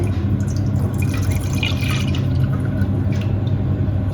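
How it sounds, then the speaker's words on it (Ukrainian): Milk pours into a saucepan in a continuous, close, steady liquid stream with faint splashing and no talking. "Далі в кастрюльку я виливаю молоко."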